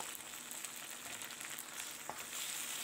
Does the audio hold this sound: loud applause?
no